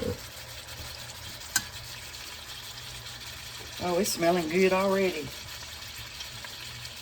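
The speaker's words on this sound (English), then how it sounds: "And then you want it to sizzle like that for just a few minutes." A whole chicken sizzles in a hot Dutch oven as a soft, steady background crackle, while a person briefly speaks over it midway.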